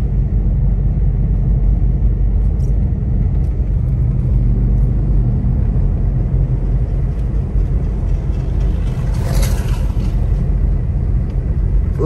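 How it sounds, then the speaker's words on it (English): A car drives at night on snowy Highway 18 between Big Bear and Lake Arrowhead, its tire chains adding a steady, loud rumbling churn under the engine noise throughout, with no talking. "those are tire chains"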